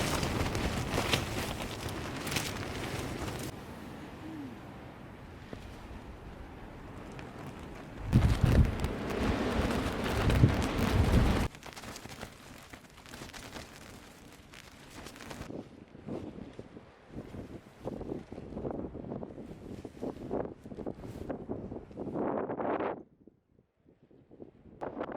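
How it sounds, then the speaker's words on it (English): Gusty wind buffets the microphone in the open desert of Joshua Tree National Park after a snowfall, loud rumbling bursts rising and falling, with one strong surge near the middle and quieter rustling toward the end. "The wind is back."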